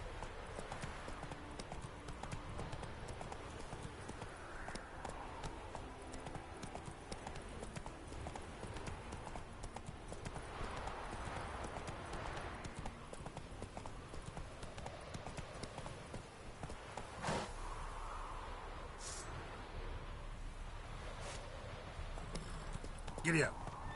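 Roach, a horse in The Witcher 3, trots with a steady, rhythmic clip-clop of hooves throughout, mid-distance under game ambience, while a voice speaks briefly over it.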